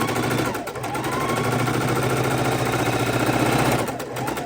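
A sewing machine stitches quilt half square triangles in one loud, steady, close run of rapid needle clatter that slows and stops near the end.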